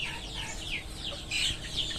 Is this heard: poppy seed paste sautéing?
no